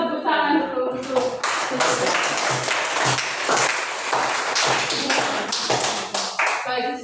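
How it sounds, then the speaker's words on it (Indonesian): Classroom audience of students and parents clapping on cue, with loud, sharp, uneven claps from nearby hands mixed with a broader patter, sustained for about seven seconds. "coba tepuk tangan dulu"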